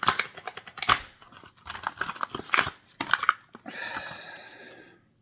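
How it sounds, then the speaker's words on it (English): Plastic packaging of a Porsche Rally Super Treasure Hunt diecast toy car being ripped open up close, with loud crackling, tearing bursts and crinkles that settle into a steadier rustle before stopping; no one speaks. "So let me rip it open."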